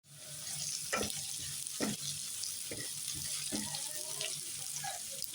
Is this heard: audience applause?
no